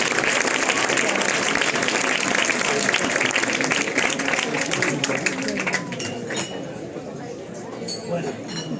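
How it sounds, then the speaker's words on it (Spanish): An audience claps for a guest speaker at an evening talk on perceptual illusions and magic, a dense, loud wash of applause with glassy clinks mixed in, thinning out toward the end. "Un gran aplauso para Juan Luque."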